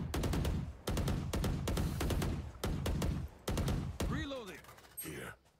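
Rapid bursts of gunfire from the video game Valorant, loud and close, repeating in quick volleys for several seconds before giving way to a clipped in-game voice at the end.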